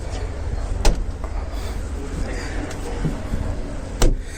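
The boot of a new CNG car is shut during a pre-delivery inspection, giving a couple of dull thumps about three seconds apart over steady background noise.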